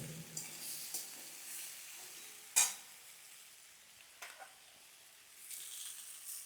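A vegetarian cauliflower curry with green chillies is stirred as it fries in a pan, with faint scraping strokes and a soft, low sizzle, plus one sharper clack of the spoon.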